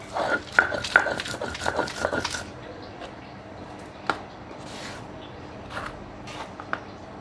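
Shrimp and another ingredient ground together on a traditional flat grinding stone, heard as a quick run of close, rhythmic scraping strokes that gives way to a quieter stretch with a few scattered knocks.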